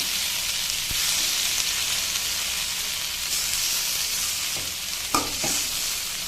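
Vegetables frying in oil in a pan give a loud, steady, close hissing sizzle, broken by a few brief utensil clicks and scrapes near the end.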